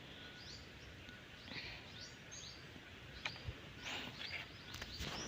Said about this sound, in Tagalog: makikinig na lang kayo ng mga huni ng mga hayop dito sa bukid